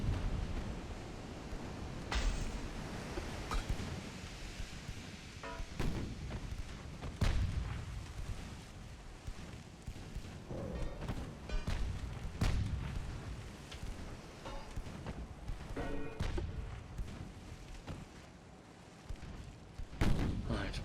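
Heavy naval gunfire from battleship turrets in the naval combat game Ultimate Admiral: Dreadnoughts, a series of booming reports spread across a continuous rumble of sea and battle noise, with no talk.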